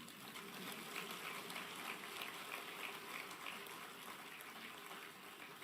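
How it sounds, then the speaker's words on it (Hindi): Faint, thin applause from a small audience at a regional industry conclave hall, a steady soft patter of clapping that stays low and distant for several seconds without rising. "तालियां कम बजी।"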